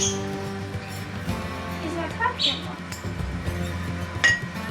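Glass canning jars clink and knock as they are flipped over on a counter while pressure canning tri-tip, several light scattered chinks over a low background hum.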